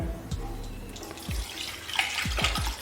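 Water is poured into a pot of seeraga samba rice in a home kitchen, giving a steady splashing, running-water wash with a few low thuds from the pot, close and fairly loud, with no talking.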